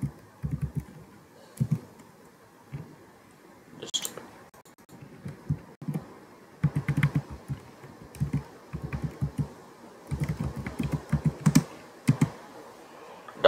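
A computer keyboard typed on to enter a Google search, with clusters of crisp clicking keystrokes separated by short pauses, close and clear with no talking over it.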